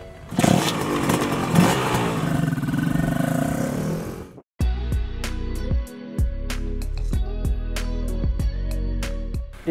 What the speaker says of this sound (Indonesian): Tapi gimana sekarang kalau kita cobain motor ini di jalan raya?